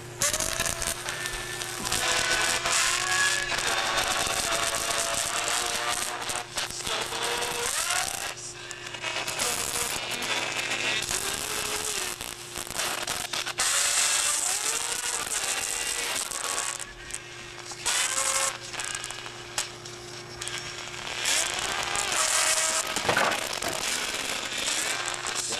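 Plasma speaker powered by an audio-modulated flyback driver circuit, with a loud, continuous crackling, buzzing arc that sweeps through wavering tones and steady hum for the whole stretch, with no talking.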